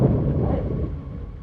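Loud, deep rolling thunder from a rainstorm, a heavy rumble that swells at once and slowly fades, with no voices.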